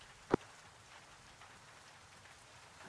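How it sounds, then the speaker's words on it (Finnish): Rain falls in the modded military video game Arma 3 as a faint, steady hiss, broken once by a single sharp tick near the start. "Täällä vielä sataa"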